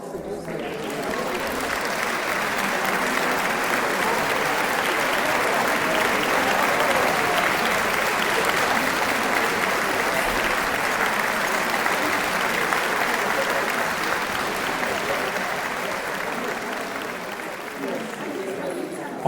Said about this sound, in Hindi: और पूरा सिटी हॉल तालियों के आवाज़ से गूंज उठा।